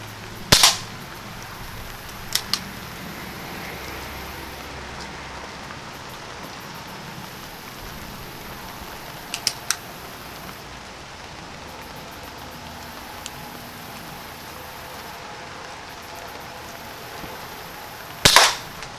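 Umarex Buck Mark air pistol firing Norma pellets at cans: a few sharp, crisp pops spaced apart, some in quick pairs, with metallic ticks from the hit cans against quiet outdoor background.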